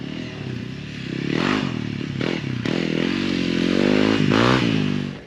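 A Honda CRF300L Rally motorcycle carrying a heavy rider in gear rides over off-road whoops, its single-cylinder engine droning and rising in pitch repeatedly as the bike bounds over the bumps, loud and close throughout.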